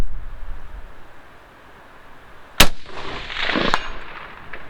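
A single sharp rifle shot from a Bushmaster ACR DMR in 5.56/.223 on a long-range outdoor range, loud and close, followed by a rolling echo that fades over the next couple of seconds amid wind noise.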